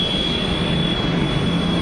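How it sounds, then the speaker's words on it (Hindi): A Delhi Metro train pulls away from Nangloi station with a steady, continuous rumble and rolling hum that holds at an even level throughout. "अब चला ये मेट्रो आगे की तरफ नागलोई से"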